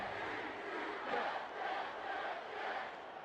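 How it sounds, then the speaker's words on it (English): A football stadium crowd roars steadily after a touchdown, a loud, dense wash of cheering that swells and dips slightly without pause. "Crowd's fired up for that one as Chaz Blackwater on to try the extra point"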